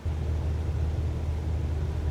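Light aircraft engine held at about 2,000 RPM for takeoff in Microsoft Flight Simulator 2024, a steady, loud low rumbling drone that stays even throughout with no talk over it.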